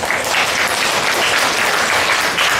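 Loud, continuous applause from an audience at an elementary school student project presentation contest, welcoming a judge. The clapping stays dense and even throughout, with no talking over it.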